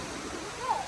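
A waterfall reached at the bottom of a long flight of steps, its soft steady wash of falling water heard faintly at a distance for a moment.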